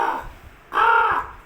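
A human voice mimicking a crow, two nasal caws, a short one followed by a longer, louder one after a brief pause, close and clear with no other sounds.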